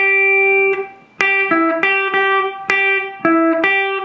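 Electric guitar with an effects-coloured, slightly driven tone plays the pickup lick into a solo. About eight sharply picked notes ring out close and clear, with short gaps between some phrases.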